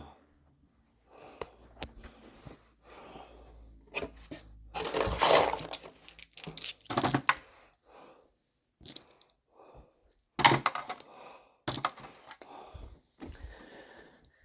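Dice rolled for a World War II tabletop war game set in the UK and France in July 1941, heard as scattered short clattering bursts, some louder than others, with quiet pauses between throws and no talk.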